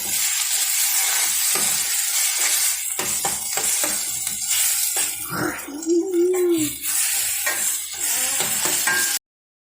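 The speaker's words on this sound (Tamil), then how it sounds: "வெங்காயம் கொஞ்சம் வெந்த பின்னாடி ஓகேவா தக்காளி போட்டு கிண்டி கிண்டி போவோம்" Onions and tomatoes fry in a pan for a prawn curry, giving a continuous bright sizzle broken by repeated scraping stir strokes, close and fairly loud.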